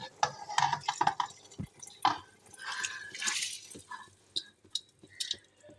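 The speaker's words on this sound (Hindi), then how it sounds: "पानी में उबाले आ गए, अब इसमें शामिल कर लेने हैं चावल।" Dry rice grains rattle and splash into a pot of boiling water up close, followed by soft stirring, liquid sloshes and an occasional clink.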